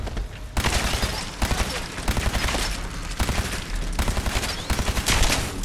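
Automatic weapon fire in Fallout 4 comes in loud, repeated bursts of rapid shots, punchy and close, with brief pauses between volleys.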